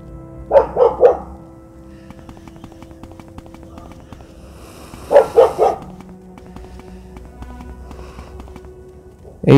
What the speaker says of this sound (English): I fucking hate this dog, I swear.